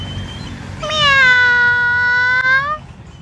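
A single drawn-out cat meow, clear and close, rising and holding for about two seconds before trailing off, with faint background murmur and no talk.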